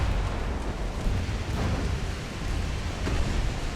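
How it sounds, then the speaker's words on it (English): Naval gunfire and shell explosions from older warships in the video game Ultimate Admiral: Dreadnoughts form a dense, continuous rumble of booms and blasts, loud and heavy with no pause, and no talking over it. "There's so much gunfire and older ships."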